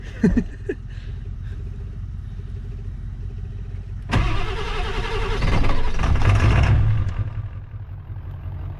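A Ford F350 diesel pickup engine cranks briefly, then catches and starts, settling into a loud, close, rough idle with a rising rev before easing back; no talking.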